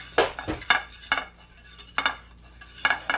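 Knorr beef bouillon stirred into a pan with a metal spoon, a run of quick scraping clinks against the pan at an uneven rhythm, close and clear.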